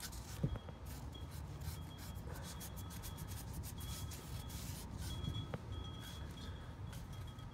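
A fingernail scraping and flaking burnt-on grease off a surface, a steady close rubbing and rasping texture that carries throughout with a few small clicks and no talk.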